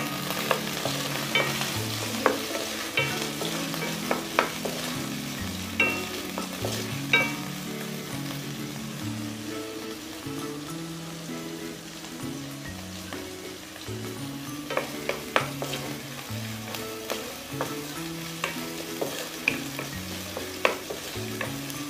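Garlic fries in a pan while being stirred, a steady close sizzle with frequent light scrapes and taps from the utensil and no voices.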